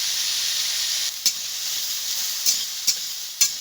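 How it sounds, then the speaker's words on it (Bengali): Potatoes frying in oil with a little salt and turmeric, a steady close sizzle with a few sharp stirring scrapes or clinks of a spoon against the pan toward the end. "সামান্য লবণ আর একটু হলুদ দিয়ে ভেজে নেব।"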